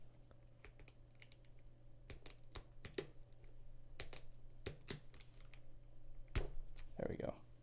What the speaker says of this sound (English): So y'all can hear both our PPT sound and the keyboard